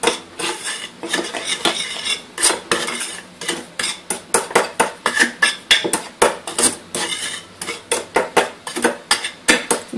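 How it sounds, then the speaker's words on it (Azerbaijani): A spoon scraping and clinking against a pot while stirring chocolate sauce thickened with starch, fast repeated metallic strokes, loud and close, with no talking. "Yenidən qarışdırırıq."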